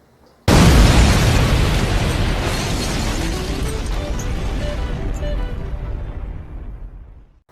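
A dynamite blast erupts suddenly, loud and full, then rolls into a long rumbling roar that slowly fades over several seconds with no voices.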